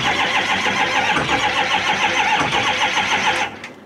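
A 2007 LBZ Duramax diesel truck that has sat a while in cold, snowy weather cranks and fires, a loud steady churning that drops off abruptly near the end.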